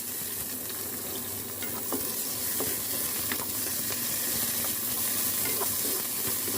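Garlic, onion and tomato stir-fried in a hot pan for a bitter melon and egg dish, sizzling steadily and close with scattered clicks of a utensil against the pan.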